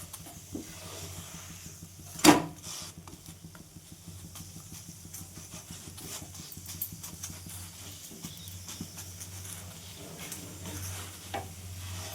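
High-protein breakfast batter is roasted in a pan over a low flame and pressed down repeatedly, giving a steady gentle sizzle with soft rhythmic pressing and scraping sounds. One sharp knock comes early.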